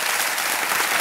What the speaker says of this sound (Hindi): एक बार तालियां बज जाएं आदित्य दुबे जी के लिए